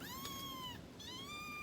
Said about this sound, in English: Your kitties might be hungry.